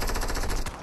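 Rapid automatic gunfire from a video game rattles in a fast, even burst for most of the moment, close and loud, then cuts off abruptly.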